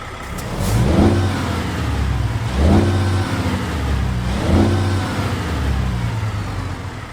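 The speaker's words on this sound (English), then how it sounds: "Yes, the good old sound of the X15." A Cummins X15 diesel engine in a truck in American Truck Simulator revs loudly three times in steady succession, each rise swelling and falling back over a continuous low idle, with no voices.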